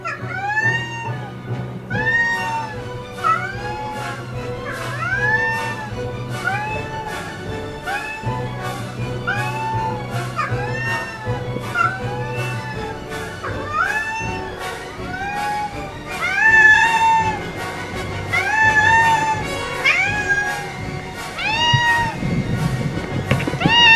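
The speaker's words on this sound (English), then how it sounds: "she is the loudest cat on the planet." A very loud cat meows over and over, with drawn-out, rising and falling cries coming in quick succession close to the listener, over a low background hum and no talking.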